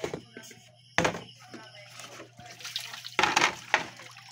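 Medicinal leaves are swished and splashed in a basin of water, with uneven sloshing bursts and dull knocks, close and fairly loud.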